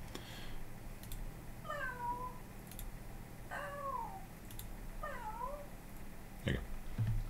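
A person's voice imitates cat meows for a game: three distinct, rising-and-falling meows spaced a couple of seconds apart, close and clear over faint background noise, followed by a brief thump.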